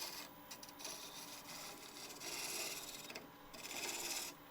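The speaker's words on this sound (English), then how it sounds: "a spindle gouge and just kind of chamfer the end a little bit" A spindle gouge scrapes and rasps against spinning wood on a lathe while chamfering the end of a mortar and pestle blank, a faint steady cutting hiss that swells and fades.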